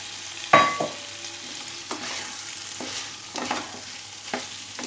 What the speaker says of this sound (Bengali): দিয়ে ভালোভাবে মিশিয়ে দেব